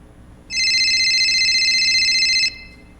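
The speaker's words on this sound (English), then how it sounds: "All I gotta do is wait for the phone to ring" A telephone rings in a radio drama sound effect, giving a single continuous electronic trill that lasts about two seconds, loud and close, and then cuts off cleanly.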